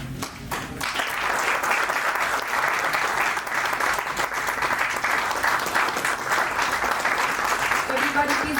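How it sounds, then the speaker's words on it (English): Sustained applause from an audience at a book unveiling ceremony for a launch, a dense steady clatter of clapping filling the room for the whole stretch, with a voice briefly heard near the end. "Everybody, please give a big round of applause"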